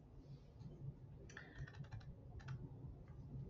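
Keystrokes tapped on a computer keyboard, a short burst of quick clicks followed by a second small cluster, faint and close against a steady low background hum.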